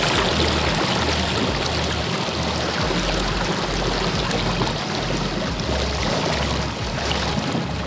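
A small boat driven by a Torqeedo electric outboard motor spins in circles on a creek, the prop cavitating slightly, giving a continuous loud churning, rushing water wash close by with no talking.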